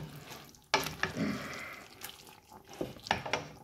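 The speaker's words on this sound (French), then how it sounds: "Et là, tu touilles avec tes oignons." Onions frying gently over low heat in a pan, stirred in a few bursts of scraping and sizzling with soft clatter in between, close and fairly quiet.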